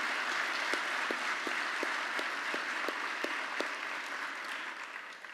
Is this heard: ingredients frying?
no